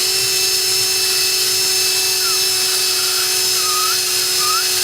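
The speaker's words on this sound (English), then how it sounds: "I'm going to take my drill that I cleaned my chamber with again." A handheld power drill whirs steadily, cleaning carbon out of a rifle's chamber and inner parts, running continuously at a loud, even pitch with faint squeaky tones riding on top and no talking.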